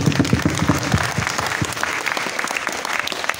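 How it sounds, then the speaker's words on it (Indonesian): Applause from an audience honouring class 12 at a pesantren farewell night, a dense burst of clapping that stays steady and fairly loud throughout with no speech. "Berikan aplaus kepada kelas 12."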